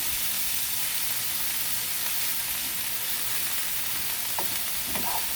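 A mushroom steak sizzles and fries in a hot pan, a loud steady hiss that fills the whole stretch with a few faint pops toward the end.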